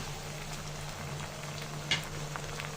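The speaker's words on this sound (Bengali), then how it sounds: "আদা, রসুন, জিরা ভালো করে ভেজে নিয়েছি বাটা মশলাটা" A paste of ginger, garlic and cumin fries quietly in a pan, giving a soft continuous sizzle with one brief scrape or stir partway through.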